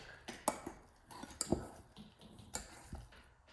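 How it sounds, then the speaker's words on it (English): Avocado being mashed in a bowl with the back of a fork, a series of sharp metallic clinks and soft squishy presses at an irregular rhythm, close and fairly quiet. "We're going to mash the avocado with the back of a fork."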